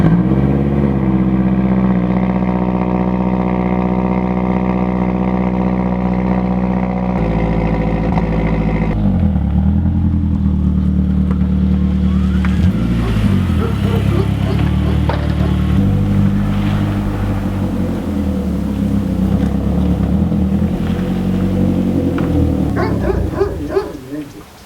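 A Mazdaspeed3 engine runs steadily while driving, a loud, close, continuous drone that shifts pitch a few times as it revs and settles.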